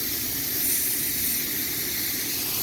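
A garden sprinkler sprays water in a steady, broad hiss close by, with no other sound.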